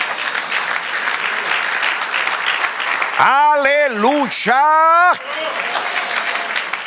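A church congregation at a sermon gives the Lord loud, steady applause throughout, while a voice calls out a drawn-out praise shout over the clapping midway.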